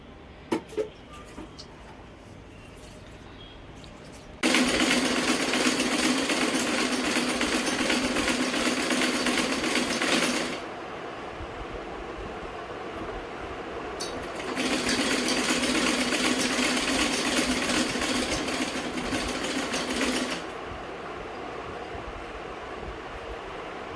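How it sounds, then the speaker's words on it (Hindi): Sewing machine stitching clothes indoors, running in two sustained bursts of steady, fast mechanical whirring and clatter, loud and close, with a quiet pause between them. "तो मैं बैठ गई हूँ मशीन लेके कपड़ों में सिलाई करने के लिए।"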